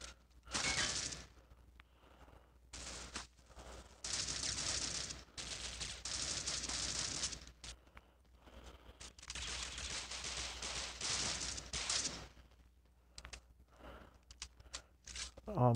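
Handgun fire in the mobile shooter Critical Ops: repeated bursts of close, loud shots separated by short gaps and quieter stretches, continuing on and off.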